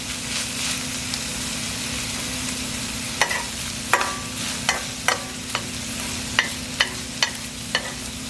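Ground meat frying in a pan for zucchini lasagna rolls gives a steady low sizzle, with sharp scraping clicks from a utensil stirring at irregular intervals; no voices.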